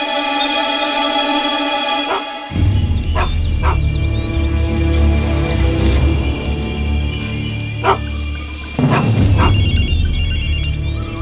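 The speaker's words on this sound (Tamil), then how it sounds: "சார், டிஐஜி கிட்ட ஃபோன்." A telephone rings loudly and repeatedly over a dense, droning background in a film scene, with steady electronic ring tones and a few sharp accents throughout.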